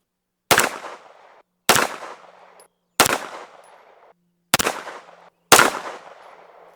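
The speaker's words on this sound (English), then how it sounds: "Let's shoot 5 more rounds at the same target. Now this is Arms Core 124 grain." Five loud, sharp gunshots from a Springfield Kuna 9mm carbine firing Armscor 124 grain ammunition, spaced about a second apart, each with a short echoing decay and no talking.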